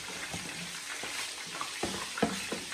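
Turkey browning in a frying pan, a steady soft sizzle with a few spatula scrapes and stirs, quiet and close with no talking.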